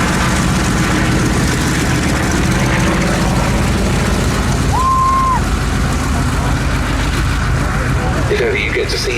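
A Grumman Bearcat piston-engined fighter roars through an air display at Duxford, a loud continuous engine drone filling the air while a commentator talks over it.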